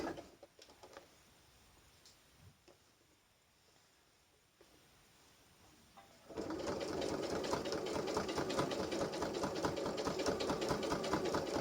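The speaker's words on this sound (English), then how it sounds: "I don't want to sew too fast. Because I want my machine to be able to cope with going through all the layers" Sewing machine stitching slowly through layers of wadding for oven gloves made from sofa fabric: quiet handling at first, then a loud, steady rapid mechanical whirr of stitching running to the end.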